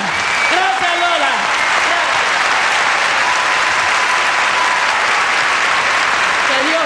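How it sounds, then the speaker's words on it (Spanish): A live audience gives loud, sustained applause, a dense and steady clapping with a voice heard faintly through it. "con ese aplauso yo quiero decirle muchas gracias, Faraona."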